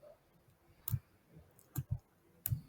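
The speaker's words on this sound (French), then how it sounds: "Je clique sur Wave." Computer mouse clicks, a handful of sharp, close little clicks spaced irregularly across a quiet, near-silent background.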